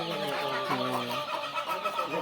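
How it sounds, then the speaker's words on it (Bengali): A chicken clucks a few times nearby, soft and fairly quiet, its short calls rising and falling with no one talking. "মুরগি ডাক ভালো লাগে ডাক তাই সুন্দর লাগে"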